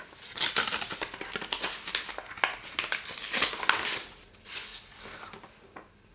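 Paper crinkles and tears up close as a paper envelope from an illustrated advent calendar is opened, with a busy stretch of rustling that fades toward the end.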